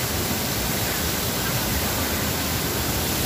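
A waterfall roars as an even, broadband rush of falling water at a secret falls, constant and unbroken with no voices over it.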